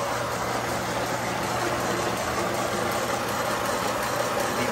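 A rebuilt Covington rock tumbler with new pillow block bearings, pulleys and adjustable belts hums steadily, a continuous mechanical drone with a faint rhythmic knock running throughout, nearby and unbroken.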